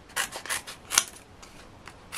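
Scissors snip through foam pads in a papercraft project, giving several short crisp cuts close by in an irregular rhythm, with a sharper snip near the middle and no talking.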